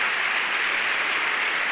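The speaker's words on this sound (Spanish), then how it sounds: "Carlos Pauner, fuerte aplauso para él, por favor." Sustained applause from an audience for a mountaineer guest at the close of a talk event, a dense steady wash of clapping at even volume throughout with no speech.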